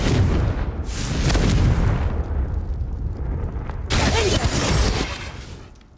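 Explosive blasts from the Confringo fire spell in the Hogwarts Legacy video game, two loud bursts roughly three seconds apart with rumbling tails and no talk over them.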